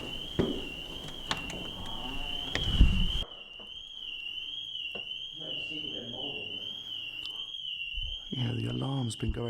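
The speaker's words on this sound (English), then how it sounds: "the alarm's been going off in here for like days" Fire alarm sounding nonstop in an abandoned school, a continuous high piercing tone that runs through the whole stretch, with people talking and footsteps and knocks around it.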